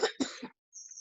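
A person coughs two or three times in quick succession, close and fairly loud, followed by a short silence and a faint high tone.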